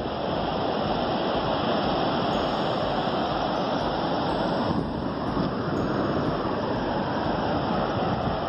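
Ocean waves on a bright, sunny beach, a steady loud roar of surf washing continuously with wind noise and no breaks or talk.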